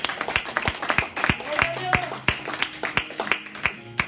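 A church congregation claps hard and steadily in a quick, even beat, with sustained musical tones running underneath and a busy, reverberant room.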